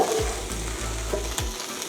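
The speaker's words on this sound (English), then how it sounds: "I'm just going to cook your beef off a little bit" Steady, close sizzling of beef frying in a hot pan, with a few stirring scrapes and shuffles over the continuous hiss.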